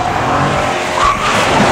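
A race car on worn tires slides and scrubs across a track, giving a loud, continuous tire squeal and engine roar at close range with no pauses.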